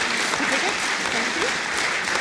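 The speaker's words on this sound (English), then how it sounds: "Please give him a round of applause." A round of applause from the audience at an agricultural forum for young farmers, a steady and fairly loud wash of clapping that lasts throughout, with a voice faintly heard underneath.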